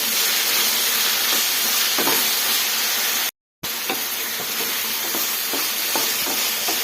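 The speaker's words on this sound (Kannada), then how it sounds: "ಎಲ್ಲ ಸೇರಿಸಿ ಚೆನ್ನಾಗಿ ಮಿಕ್ಸ್ ಮಾಡ್ಕೊಳ್ಳೋಣ ಈ ಥರ" Spiced eggplant masala with salt and coriander powder being stirred in a frying pan, a loud continuous sizzle with scraping stir strokes, briefly cut by a moment of silence midway.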